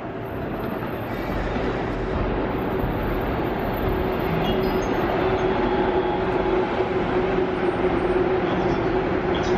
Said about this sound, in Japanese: 2番線のアッティは無事到着しました。